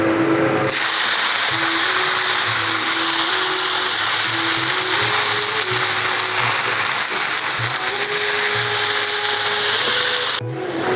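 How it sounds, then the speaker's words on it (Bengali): Washed, drained jute leaves hit hot oil with fried garlic in a pan, setting off a loud, steady sizzling hiss that carries on almost unchanged before cutting off near the end. "রসুনটা আমার ভাজা ভাজা হয়ে গেছে, এখন আমি পাট শাকগুলো দিয়ে দেবো"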